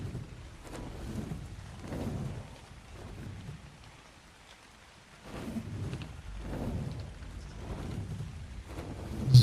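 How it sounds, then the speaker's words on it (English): Steady rain falls with low rolling rumbles of thunder in the video game Ark Survival Ascended, a soft, continuous wash that swells and fades several times, with no talking. "Okay, it's raining."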